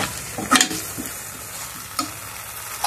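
Tomato sauce being mixed into restaurant-style homemade noodles in a frying pan, a soft continuous sizzle broken by a few clattering spoon scrapes against the pan, close and with no talking.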